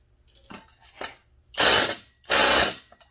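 A ratchet loosens the muffler bolts on a Husqvarna 385XP chainsaw, with two short clicks followed by two longer, loud ratcheting bursts close by, and no talking.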